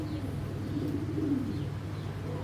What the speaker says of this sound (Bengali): এই যে ব্যালেন্স, বিশাল বড় কবুতরটা